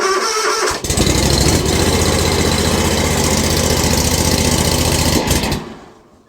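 Small engine starting with a little choke and a touch of throttle, catching with a loud rough roar that runs steadily for several seconds before dying away.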